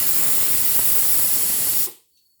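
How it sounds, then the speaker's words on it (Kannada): Steam blasts from a pressure cooker whistle while mushroom biryani cooks, a loud, harsh hiss that holds steady for nearly two seconds and then cuts off abruptly into quiet. "ಒಂದ್ಸರಿ ಈ ವಿಷಲ್ ಇದು ಸ್ವಲ್ಪ ಈ ಗ್ಯಾಸ್ ಇರುತ್ತಲ್ಲ ಅದನ್ನ ತೆಗೆದುಬಿಡಿ"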